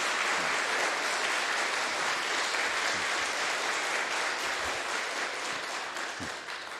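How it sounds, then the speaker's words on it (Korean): A church congregation applauds a guest pastor at the close of a revival Bible conference, a steady broadband wash of clapping that holds throughout and tapers slightly at the end. "이 시간 우리 목사님께 감사의 박수 한번 해주실까요?"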